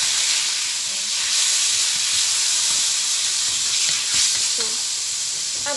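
Pork belly sizzles steadily in a little olive oil, a continuous loud frying hiss with faint pops and crackles near the pan, no one talking.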